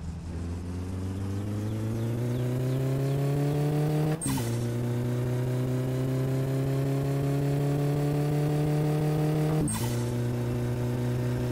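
A car engine fitted with a turbo mod in the driving game My Summer Car, a loud steady drone that slowly rises in pitch twice, each climb cut by an abrupt shift with a sharp burst, and no talking.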